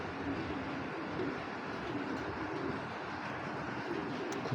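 Racing pigeons in a breeding loft coo softly beneath a steady, dense wash of background noise that persists throughout.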